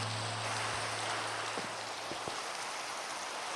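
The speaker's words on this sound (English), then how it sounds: "make this damned rain go away" Steady rain in Minecraft, an even hiss of falling drops at moderate level, uninterrupted and without voices.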